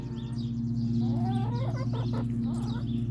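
Chickens cluck and murmur softly in a backyard pen with a compost bin, a few close calls over a steady low hum.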